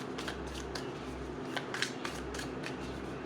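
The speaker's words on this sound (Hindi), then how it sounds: "I will just pull all cards" Tarot cards drawn and shuffled from a deck during a reading, giving a run of soft papery flicks and slides close to the mic over a steady low hum, with no speech.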